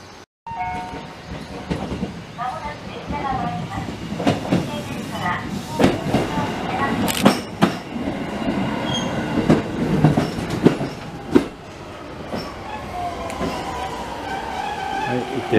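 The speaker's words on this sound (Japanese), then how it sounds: "列車はただいま立木駅を発車いたしました。" A train rumbles and clatters as it pulls away, with wheel clicks and occasional sharp squeals over a steady low rolling noise.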